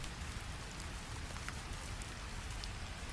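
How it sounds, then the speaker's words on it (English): Quiet, steady rain falls in the Tibetan mountains around a monastery, an even, soft patter of drops with faint distant texture and no voices. "Let the rain sounds bring deeper peace."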